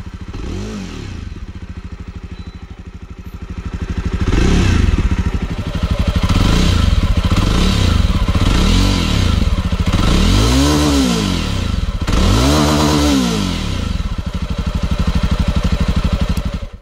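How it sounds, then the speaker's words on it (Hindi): A 2020 Jawa Perak bobber motorcycle idles with a thumping exhaust beat, then is blipped through several sharp throttle revs that rise and fall, loud and close with no talking. "सबसे पहले आपको एग्जॉस्ट साउंड सुनाते हैं।"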